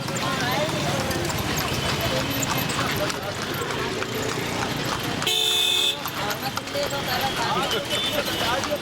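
A horse pulling a tonga clip-clops along a street past Rumi Gate in Lucknow under constant traffic rumble, a car horn blaring briefly partway through, with people talking.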